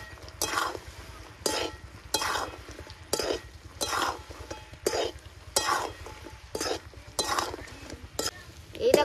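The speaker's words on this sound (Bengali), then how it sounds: "এবার নাড়তে হবে।" Angul goja being stirred in sugar syrup in a pan, with repeated scraping strokes in a steady rhythm about once a second, close and clear, over a faint low background hum.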